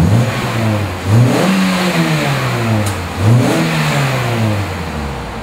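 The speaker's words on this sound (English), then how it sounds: "Let me rev it up for you a little bit. It's got a nice little sporty exhaust note." A 2003 Mini Cooper engine with a sporty exhaust revs up twice, each blip climbing sharply then falling back toward idle, loud and close with no talking.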